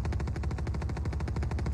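Rapid automatic gunfire in the game VALORANT, heard during a Korean clan battle semifinal, rattles continuously in a steady, dense rhythm, loud and close with no voices.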